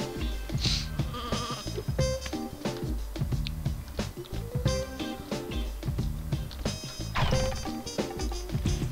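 Sheep bleat in the video game Sheep Raider, short cries rising over busy clicking, ratcheting game effects and background music, with a few bleats standing out loudly near the start and end.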